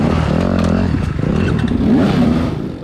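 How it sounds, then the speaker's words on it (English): A motorcycle engine revs loud and close during an off-road race through a rock garden, its pitch climbing and dropping in rough surges with rattling clatter over the steady drone. "Somebody's revving behind me"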